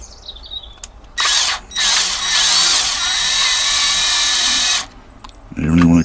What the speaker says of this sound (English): I'll get on and drill this one out.